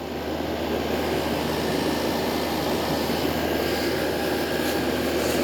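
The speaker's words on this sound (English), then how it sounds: "Let's turn it up to high cool. That turns the fan up." A 1986 Hotpoint Port-a-Cool portable air conditioner with its fan switched to high gives off a steady, loud whooshing roar of moving air that holds constant throughout, with no talking.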